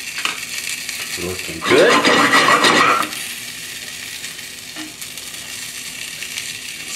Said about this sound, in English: Sesame oil is really great method to pan sear fish. Very high heat.